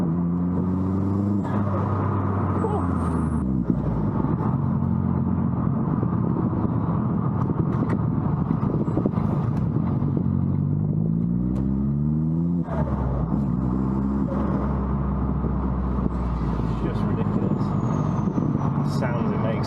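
An Astra VXR's turbocharged engine fitted with a Turbosmart recirculation valve pulls along a parkway, a steady close rumble with rising and falling engine tones as it accelerates and shifts, and a person talks over it at times.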